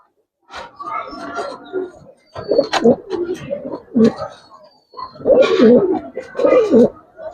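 A pair of Giribaz pigeons coo in close, throaty, rolling bursts, broken by short pauses, with voices talking around them.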